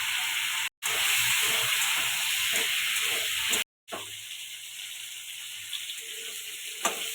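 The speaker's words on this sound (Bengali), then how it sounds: "ফুলকপিটা ভাজার সময় আমি অল্প লবণ দিয়ে দিচ্ছি" Cauliflower fries in hot oil with a bright, continuous sizzle and hiss, briefly cut off twice, then settling to a softer frying crackle with occasional pops.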